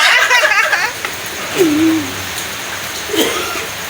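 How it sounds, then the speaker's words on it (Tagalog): Steady rain hisses throughout, with a few brief tonal calls and faint voices at the start, moderately loud and continuous. "Wala telaga hindi talaga huminto ang ulan."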